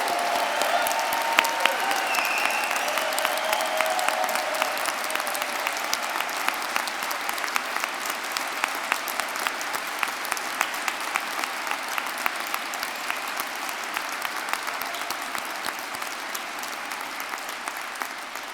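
Audience at an Ely degree ceremony applauding the graduates, a sustained, even wash of many hands clapping that holds steady for the whole stretch and slowly eases, heard from within the hall without any talking.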